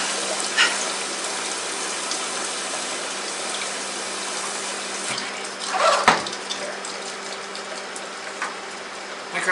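Tap water runs into a kitchen sink to fill it with fresh dishwater, a steady close hiss that goes on throughout, with a brief louder splash and clatter in the middle and no talking.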